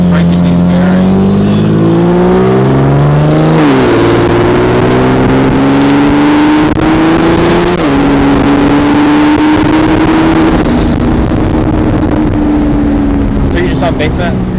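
A single-turbo BMW 335i with a hood-exit exhaust revs up close and loud, its deep, almost diesel-like drone climbing in steps and holding high, with voices talking over it.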